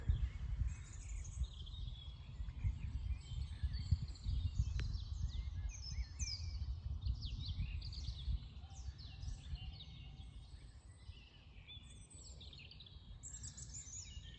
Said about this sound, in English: I just want to let you listen to the birds.